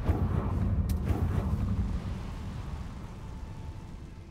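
Confringo blasting curse exploding in the Hogwarts Legacy video game, a dense rumbling blast that starts loud and slowly fades into a low roar, with no talk.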